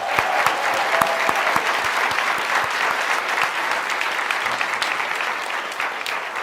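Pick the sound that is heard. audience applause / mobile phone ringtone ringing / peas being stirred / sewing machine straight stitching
audience applause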